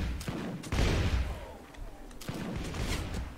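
Massed musket volleys from gunners in the battle game Warsword Conquest, a few sharp reports at about 0.3, 0.7 and 2.3 seconds over a steady rumble of distant fighting, with no clear talk.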